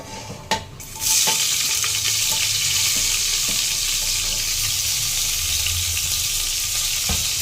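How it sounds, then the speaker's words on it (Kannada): Onion hits hot oil and ghee with cinnamon, cloves and fennel seeds for a bachelor biryani, a sudden loud burst of sizzling after a brief clatter, then a dense sustained fry with faint stirring scrapes. "ಇದು ಸ್ವಲ್ಪ ಫ್ರೈ ಆದಮೇಲೆ ನೆಕ್ಸ್ಟು ಆನಿಯನ್ ಹಾಕ್ತಿದ್ದಾರೆ."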